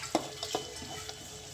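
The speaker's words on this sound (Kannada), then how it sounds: "ಇದನ್ನು ಚೆನ್ನಾಗಿ ಎಣ್ಣೆಯಲ್ಲಿ ಹುರಿತಾನೆ ಇರಬೇಕು ನೋಡಿ" Egg sambar masala fries in hot oil, with a soft steady sizzle and a few quick scraping stirs of a spoon in the pan, close and fairly quiet.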